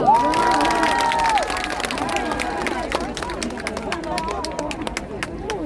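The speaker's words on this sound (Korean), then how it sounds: "박수로 주세요" Applause and cheering from an audience at a fan meeting, a lively crowd clapping and shouting with a voice calling over it, the clatter thinning into scattered claps toward the end.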